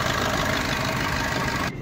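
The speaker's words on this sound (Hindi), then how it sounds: "ये डीजल इंजन ब्रीजा डीजल" A Suzuki Brezza 1.3-litre VDIS diesel engine runs at a steady idle, a dense, continuous mechanical drone with faint knock that stops abruptly near the end.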